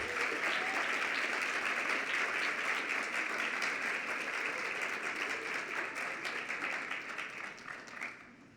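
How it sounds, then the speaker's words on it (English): Sustained applause from an audience at a white coat ceremony for accelerated nursing graduates, a dense crackle of many hands clapping that fades gradually toward the end. "I think you guys deserve a round of applause, don't you?"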